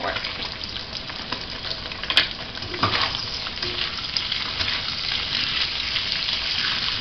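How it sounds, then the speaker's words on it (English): Steady, close sizzling of noodles and meat frying in a hot pan for pad thai, with a few brief scraping stir sounds partway through. "No sauces, just frying."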